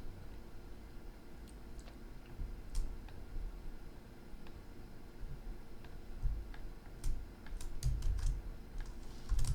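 Keys clack on a computer keyboard in a quiet room during 3D modeling work, faint, scattered taps and clicks in irregular short bursts over a low background hum.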